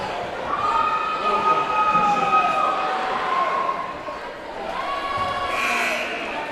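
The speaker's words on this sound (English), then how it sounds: "the crowd's definitely getting into it now" A crowd at a boys varsity high school basketball game, Swain at Franklin, roars and cheers in a loud sustained swell with shrill whistles or shouts rising above it, while a commentator talks over the noise.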